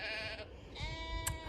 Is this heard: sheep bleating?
yes